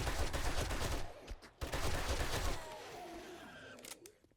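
Gunfire in the 7 Days to Die video game: rapid, close bursts of shots crackle in a steady stream, briefly pause, resume, then thin out into scattered echoes and quieter game noise.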